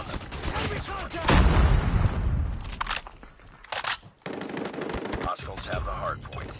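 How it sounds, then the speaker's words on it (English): Rapid automatic gunfire bursts from a hostile sentry gun in a Call of Duty Mobile Hardpoint match, loud and close in stretches with a brief pause midway, under game voice announcements. "Hostile sentry gun in your AO."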